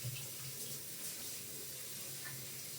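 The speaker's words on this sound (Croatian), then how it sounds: "Samo da ih ja lijepo perem da bi ih mogla opet isprljati" Water running from a kitchen tap while hands are washed: a faint, steady splashing stream into a sink, with no talking.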